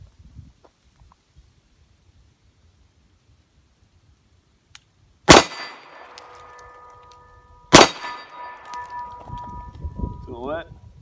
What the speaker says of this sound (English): let's pop a couple in the steel and make some headshots